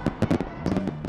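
Fourth of July fireworks burst over a Raleigh park in a rapid, loud cluster of sharp cracks and pops, several bangs landing close together in about a second.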